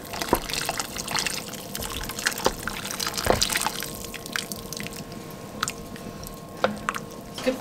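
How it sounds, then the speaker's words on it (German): Water poured into a cooking pot in a home kitchen while preparing food for ten, giving soft drips, splashes and trickling with scattered clinks of the pot, close by and moderately quiet throughout. "Geben da weiter Wasser auf."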